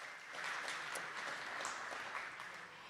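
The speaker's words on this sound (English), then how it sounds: "Round of applause for our great team." An audience at a public community meeting claps for the team, a faint, steady patter of many hands heard from a distance for the whole stretch.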